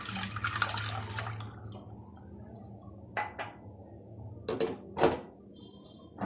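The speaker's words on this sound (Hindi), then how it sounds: "अब हम इसमें दोनों ग्लास दूध के डालेंगे।" Milk is poured into watermelon sharbat in a few short bursts of liquid splashing against glass, separated by quiet gaps, heard up close.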